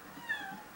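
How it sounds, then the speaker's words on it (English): A real cat meows faintly in the background, one soft drawn-out mew at a distance. "the cat that you're hearing is actually real, it's not part of the game"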